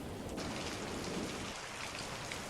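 Heavy rain pours down steadily as a dense, even hiss of drops drumming on surfaces, loud and constant throughout with no voices.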